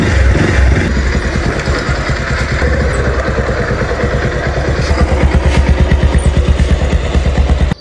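A motorcycle engine running close by, a steady rapid chugging throb that holds for several seconds and then cuts off abruptly.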